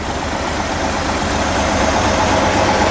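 A 1965 Chevrolet Corvair Corsa engine idles steadily up close, a dense rumbling chug that holds constant throughout with no voices.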